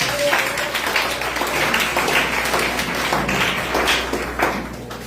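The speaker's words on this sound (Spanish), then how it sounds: "Den un aplauso al Señor" A church congregation applauds the Lord during a sermon, a sustained bed of many hands clapping at a steady level with a few sharper claps standing out, moderately loud and without clear speech on top.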